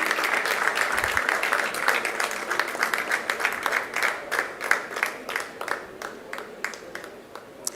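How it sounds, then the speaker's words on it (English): An audience at a convocation ceremony claps steadily throughout, a dense and sustained round of applause with individual claps standing out, fading slightly toward the end. "Can we have a huge round of applause for group 10A?"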